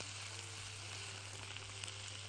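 Kofta sizzling on a double grill as it is flipped, giving a steady, close, hissing fry that holds evenly throughout with no talking.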